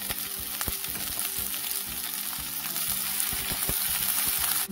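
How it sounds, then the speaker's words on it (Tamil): Okra sizzles steadily as it fries in a generous amount of oil in a pan for a Tamil okra masala, a constant close crackle with occasional stirring clicks and no talk. "முதல்ல கொஞ்சம் பாதி வந்து வெண்டைக்காயை வதக்கிடலாம்"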